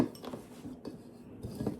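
A bowl is handled while making gum paste flowers for cake decorating, giving soft clinks and light knocks of dishware in a quiet room, a few brief contacts spread across the moment, with no talking.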